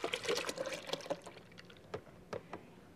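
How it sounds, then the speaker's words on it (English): Milk pours into a glass or blender for a chocolate milkshake in a sitcom kitchen, a brief gurgling liquid splash at first that thins into a few soft drips, close and quiet, with no talking. "First, you pour in some milk."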